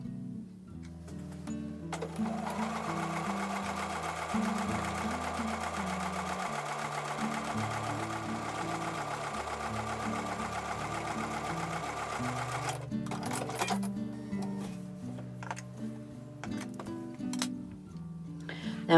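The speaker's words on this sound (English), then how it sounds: "Now we're going to go back to the sewing machine and we're going to sew a 1/4-inch seam" A sewing machine stitches a quarter-inch seam on a quilt block, its needle running in a fast, steady whirring rhythm for most of the run, then stopping, followed by brief handling clicks near the end.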